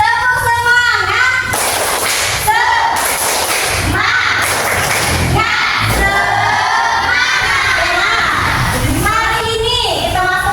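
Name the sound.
group doing the "tepuk semangat" rhythmic clapping chant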